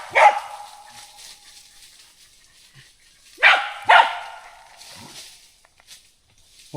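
Hunting dogs bark in a forest: one sharp bark at the start, then a pair of quick barks a few seconds later, with faint yips and rustling in between.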